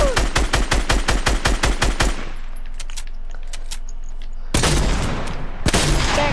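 Rapid automatic gunfire in a video game, loud and steady for two seconds, then a quieter hum with scattered clicks before another heavy burst of shooting.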